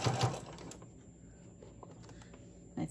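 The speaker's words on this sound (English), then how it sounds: "I'm going to put my needle back down and I'm going to sew." A sewing machine that has grown noisy from heavy use stitches a fat-quarter hot pad in one short, close run of rapid mechanical chatter that opens loudest and then settles, with no speech.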